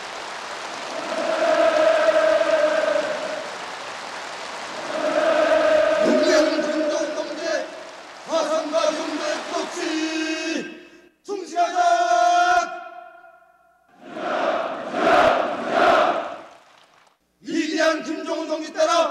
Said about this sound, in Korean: 만세 우렁찬 함성을 돋쳐